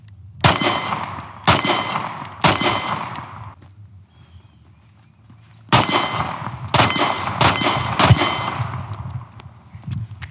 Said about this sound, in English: I forget that I'm shooting because I'm having so much fun shooting this pistol